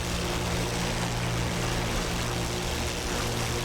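P-51D propeller fighter engine droning steadily in a flight simulation game, a constant loud hum with low tonal harmonics and no break across the whole stretch.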